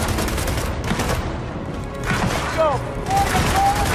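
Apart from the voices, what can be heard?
gunfire in the video game Gears of War 4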